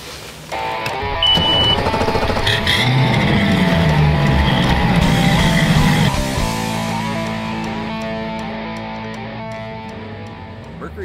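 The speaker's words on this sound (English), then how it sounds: "So let's get out on the water and break this puppy in." Mercury ProXS V8 four-stroke outboard engine on a boat on a lake, revving up loudly and holding a strong roar before easing back to a steadier, slightly quieter drone.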